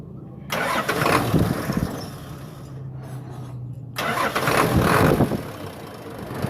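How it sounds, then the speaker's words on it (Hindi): A Hino truck engine cranks and catches twice, each time turning over into a loud, rough diesel rumble, with a quieter idling hum in the gap between the two starts. "तो फिर भी हमने इंजन को स्टार्ट करके चेक करना है"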